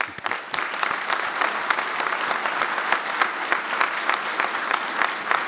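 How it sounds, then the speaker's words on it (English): A crowd at a St. Paul Fire Department firefighter academy graduation ceremony claps steadily and fairly loudly for a few seconds, a dense even patter of many hands filling the room with no talk. "Round of applause."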